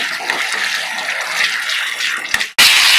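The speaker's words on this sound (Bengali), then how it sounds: "জল ফুটে গেছে, এই জলটাই দিয়ে দিলাম।" Boiled water is poured into a pan of spiced yogurt curry base, a loud close gush and rush of liquid lasting over two seconds, followed after a brief break by a sharp hissing sizzle.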